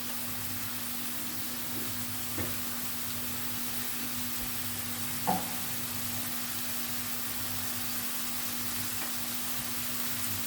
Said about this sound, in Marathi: ह्या तुपावर फ्राय करायचा आहे छान असा गोल्डन ब्राऊन करून घ्यायचा आहे